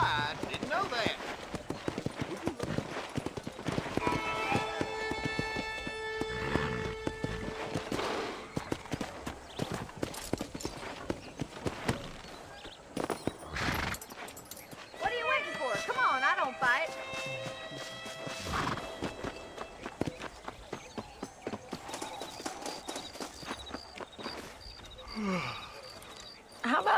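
Horse hooves clip-clopping steadily during riding in the 2010 Red Dead Redemption video game, mixed with game music tones and other ambient effects under ongoing character dialogue.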